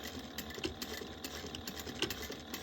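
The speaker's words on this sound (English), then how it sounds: "Make sure if you're starting at the bottom, you're back stitching really well." A sewing machine stitches the pocket of a crossbody bag, back stitching from the bottom, with a quiet, steady rapid whir and faint rhythmic clicks that run without pause.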